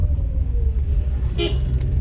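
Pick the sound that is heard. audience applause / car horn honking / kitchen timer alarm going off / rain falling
car horn honking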